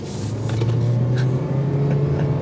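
A 2023 Toyota Prius XLE in sport mode accelerates hard from inside the cabin, its engine and motor droning with a rising hum, steady and fairly loud with no voices.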